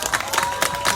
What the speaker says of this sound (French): faites un applaudissement pour vous-même.